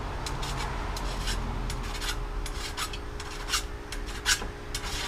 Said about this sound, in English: That's the file biting into the metal.